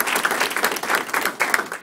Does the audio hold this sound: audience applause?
yes